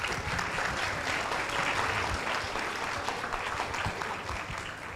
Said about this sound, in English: Let's give a round of applause to the team Lucky.